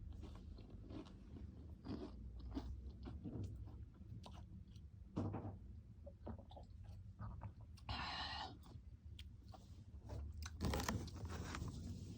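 Snack crackers or chips being bitten and chewed close up, steady crunching and mastication throughout with a few louder crisp bites, no talking.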